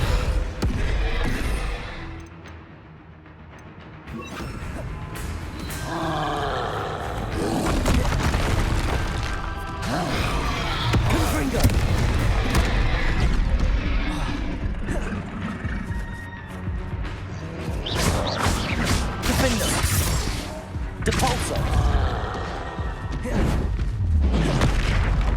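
Spell blasts and explosions from the PC game Hogwarts Legacy: a loud, dense run of booms and crashing bursts that follow one another almost without a break over a steady rumbling game backdrop.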